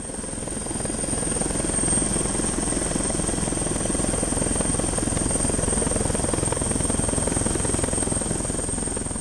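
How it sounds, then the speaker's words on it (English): A patrol helicopter flies over archaeological sites, its steady rotor thrum holding at a constant, moderately loud level throughout, with no voices. "While the helicopter patrols in the sky"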